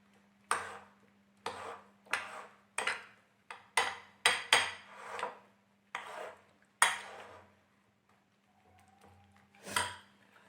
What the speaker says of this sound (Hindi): अब इन सबको मिक्स कर लेना है अच्छे से।